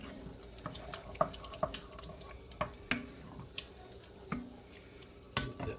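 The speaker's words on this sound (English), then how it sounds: "And we'll add a little bit of garlic. Stir that up real quick." Spoon stirring garlic into spiced sausage pasta in a cast iron pan, a series of light scattered scrapes and clinks over a soft sizzling background.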